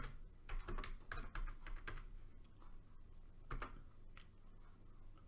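Keys clatter on a computer keyboard in quick irregular bursts with brief pauses, close and fairly quiet, as a product listing for an eBay sale is typed in.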